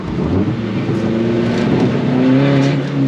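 A car engine revs hard in a racing video game while the car drifts sideways with little grip, a loud, continuous engine whine rising and falling in pitch, with no talking.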